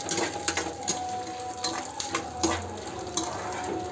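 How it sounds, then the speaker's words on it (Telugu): Ingredients fry in a pan for a chutney in a home kitchen, a steady sizzle broken by repeated stirring scrapes and clinks of a utensil against the pan. "ఇవైతే బాగా వేగుతూ ఉన్నాయి."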